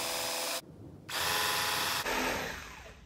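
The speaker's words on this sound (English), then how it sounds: "drill a starter hole in each of the four corners to make the process easier" A power drill whines through a wooden board in two loud bursts separated by a short pause, drilling starter holes, the second run trailing off as the bit spins down.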